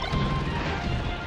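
Forward smash landing in a Super Smash Bros. Melee doubles tournament match, a loud dense crash-like impact with sustained game noise over about a second, no speech.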